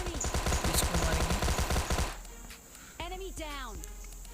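PUBG Lite duo-versus-squad gameplay opens with rapid, loud bursts of automatic gunfire for about two seconds, then drops to quieter game ambience as someone talks.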